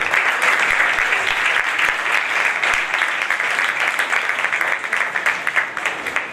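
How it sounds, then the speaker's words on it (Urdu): A church congregation at a first-anniversary service in Malir, Karachi, applauds a couple loudly and steadily, dense clapping filling the whole stretch without pause. "ان دونوں کے لیے زوردار تالیاں بجائیے۔"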